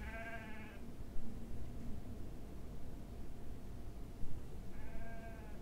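Sheep bleat outdoors at night, two drawn-out calls heard at a distance, one at the start and one near the end, over a steady hiss of wind through trees.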